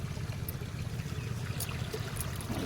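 Water rushes steadily over a broken earthen ridge in a flooded rice field, a continuous close wash and trickle with no break for the whole stretch.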